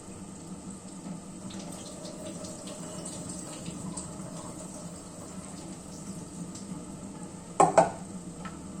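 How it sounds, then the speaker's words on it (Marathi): Water pours into a pan of fried onions and vegetables, a steady gentle rush and trickle at moderate distance, ending in a brief louder splash near the end; no one speaks. "आता मी टाकते याच्यामध्ये पाणी"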